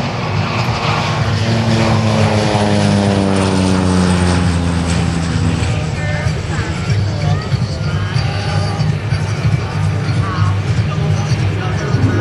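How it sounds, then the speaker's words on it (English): A propeller-driven aircraft makes a loud flyby at a Blue Angels homecoming airshow after the Emerald Coast skydiving team jumps. The droning engine pitch sweeps down as it passes, with crowd murmur underneath and a steady wash of noise. "Aircraft does its flyby."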